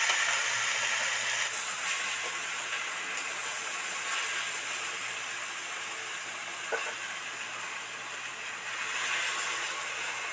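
Water added to a hot pan of fried cabbage and potatoes in a vegetarian cabbage dish, producing a steady, moderately loud hiss and sizzle that continues throughout with small fluctuations.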